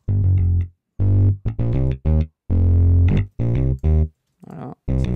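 Virtual electric bass from IK Multimedia Modo Bass, played through octaver and distortion effects, sounds a series of loud, gritty, thick notes in short bursts separated by silent gaps, close and alone.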